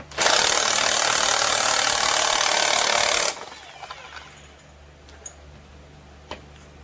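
A Husqvarna 372 XP chainsaw clutch is taken off with a homemade three-finger socket. A loud, steady, rattling mechanical whir runs for about three seconds, then stops abruptly, leaving a quiet background with a few faint clicks.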